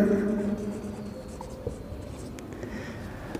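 A marker or chalk writes on a classroom board during a probability lesson: short, close scratchy strokes in quick bursts that fade into lighter taps, with no talking.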